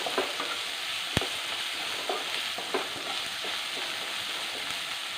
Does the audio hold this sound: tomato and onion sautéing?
yes